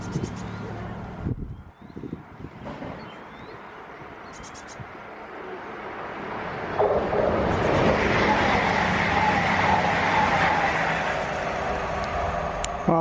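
A Class 158 diesel passenger train approaches and passes, building from a faint distant rumble into a broad, louder rushing roar that lingers, with a voice talking quietly before it arrives.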